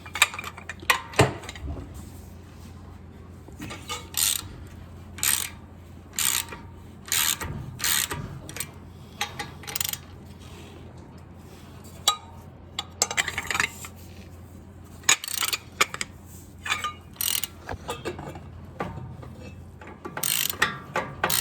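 A ratchet clicks in quick repeated bursts while caliper bracket bolts come off a 1996 Ford F-350 front axle, sharp close-up ratcheting separated by short pauses, with no talk.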